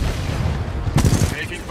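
Gunfire from the video game Titanfall 2 erupts in a rapid burst of loud, close shots that ends within a second, over a constant rumbling game background, with a voice talking.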